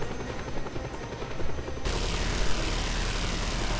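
Automatic gunfire in Just Cause 2, a steady rattle of rapid shots that swells abruptly into a louder, denser roar of fire and engine-like drone, staying close and continuous.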